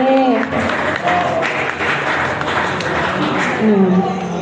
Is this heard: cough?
no